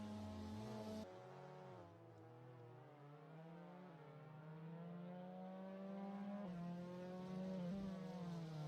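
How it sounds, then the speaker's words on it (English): A Polaris racing buggy with a 181-horsepower engine accelerates hard on a Race of Champions track, its rising, sustained engine whine climbing steadily in pitch and holding loud and close throughout. "really make that Polaris sing, get all of that 181 brake horsepower down"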